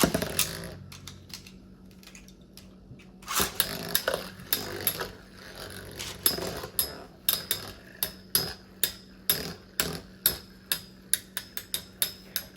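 Sharp plastic clacks and rattles of metal Beyblade spinning tops colliding in a plastic stadium, irregular at first, then settling into a steady run of evenly spaced knocks.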